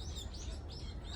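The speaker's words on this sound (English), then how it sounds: "More birds." Small sakura birds chirping among cherry blossom branches, a steady high twittering of overlapping calls close by with a low background hum, no talking.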